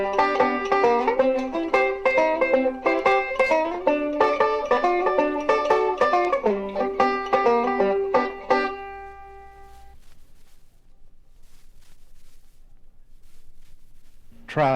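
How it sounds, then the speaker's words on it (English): Five-string banjo vamping with hammer-ons added to the choked chord strums: a brisk run of short, bright, percussive chords for about nine seconds, then near silence, with a voice briefly at the end. "Now add a hammer into your vamping."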